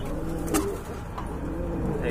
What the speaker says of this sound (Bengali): এই যে দেখেন মাশাআল্লাহ চমৎকার এক জোড়া কবুতর